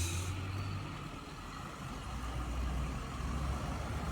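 A Hino 500 wingbox truck rumbles across a railroad crossing with a steady, broad engine and road roar that holds at moderate volume throughout, with no voices.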